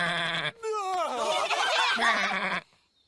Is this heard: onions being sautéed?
no